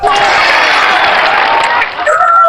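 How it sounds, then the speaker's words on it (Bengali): Outdoor audience claps for a contestant at a water obstacle challenge with hanging rings and a bamboo bridge, loud dense applause and crowd noise sustained throughout. "ওনার জন্য একটা হাততালি হয়ে যাক"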